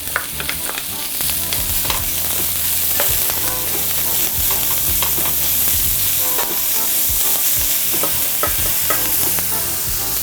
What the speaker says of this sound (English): I'm gonna go ahead and add my pancetta bacon